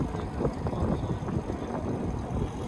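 Steady wind buffeting the microphone while riding a Lectric XP electric trike outdoors, a continuous low rumbling roar with gusty swells throughout.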